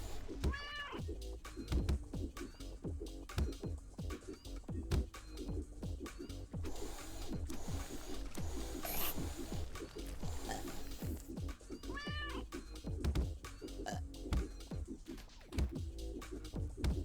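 A cat in Turnip Boy Commits Tax Evasion lets out repeated meows at two separate moments amid a busy pattern of rhythmic game sound effects and music, with occasional talk underneath.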